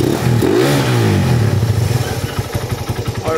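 A Suzuki Raider 180cc carbureted motorcycle engine with a 68mm steel bore, ported and polished stock head, and a gutted stock pipe, revving up once close by, then settling back into a steady, throbbing idle.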